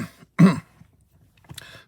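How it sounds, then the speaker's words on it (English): A person gives one sharp, close cough, then a brief throat clearing after a short quiet pause. "I hope that my cough is not going to return at a bad time"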